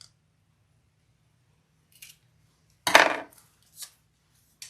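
Scissors snip once through a zipper during sewing of a hobo bag, a single sharp crisp cut standing out against near silence, with a few faint handling ticks around it.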